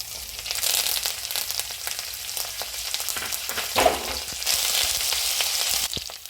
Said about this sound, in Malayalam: അതിലേക്ക് കറിവേപ്പില, മുരിങ്ങയില ചേർത്ത് കൊടുത്ത് നന്നായി സോട്ട് ചെയ്യാം